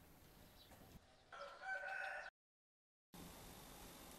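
A Ky Lan breed rooster with silky feathers down to its feet crows once, a loud drawn-out call over low background noise, followed by a cut to silence.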